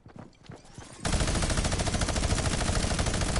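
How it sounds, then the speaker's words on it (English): Rapid automatic gunfire erupts in a video game, a dense, loud, continuous burst of shots that follows a second of quieter background footsteps and movement. "Who's shooting?"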